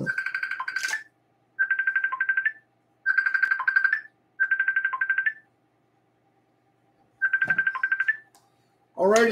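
Repeated bursts of a warbling electronic phone ringtone from an incoming call, about five rings separated by short gaps, fairly close and clear, with a brief voice at the very end.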